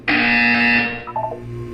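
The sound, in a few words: buzzer in the video game Portal 2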